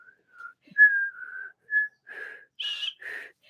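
A person whistles a short tune of several clear, separate notes, a few held and a few brief, close and alone.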